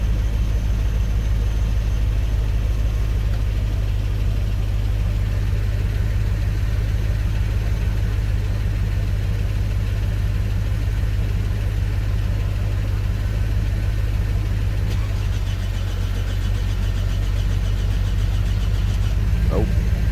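A 2005 Toyota Camry engine runs steadily with a constant low hum, holding a near-even drone throughout with a faint shift near the end, under occasional background voices.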